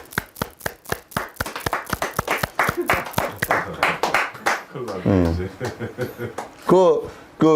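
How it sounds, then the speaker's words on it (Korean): A group claps along at a Buddhist doctrine lecture led by a monk, with sharp, evenly spaced claps for about four seconds before voices talk and laugh. "박수 쳐줘, 전부 다"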